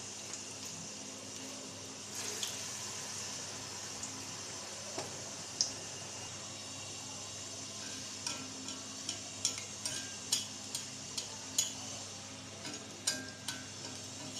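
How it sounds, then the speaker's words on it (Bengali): Stuffed spiny gourd fritters fry in very hot oil, a faint, steady sizzling hiss with a low hum beneath and occasional soft pops and ticks growing more frequent; no speech. "উলট পালট করে ভেজে নেব"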